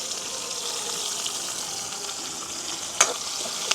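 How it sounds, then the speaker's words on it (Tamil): Mustard seeds, fennel, onion and green chillies frying in hot oil in a village kitchen: a steady close sizzle with a sharp crackle and pop near the end, no talk. "எண்ணெய் வந்து கொதிச்சிட்டுது கொஞ்சமாக பெரிஞ்சிரகமும் கடுகும் போடுவேன் அதோடு வந்து வெங்காயம் பச்சை மிளகாய்"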